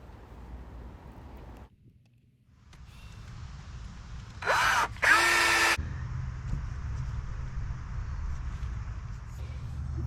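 A power drill drives screws to fix hinges onto a raised garden bed cover. Two short, close bursts of whirring come midway, set against a steady outdoor background hum.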